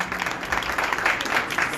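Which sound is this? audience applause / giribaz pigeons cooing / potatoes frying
audience applause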